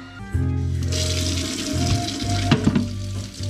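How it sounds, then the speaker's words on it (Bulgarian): Cold tap water runs steadily over freshly developed film in a sink after Rodinal stand development, a continuous splashing rush over a low hum, with the flow briefly spluttering and surging near the end. "Ще го измия със студена вода, абсолютно не му пречи."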